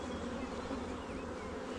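Russian honeybees being moved into a hive, a steady faint buzz of many insects hovering close by, continuous and even with no voices.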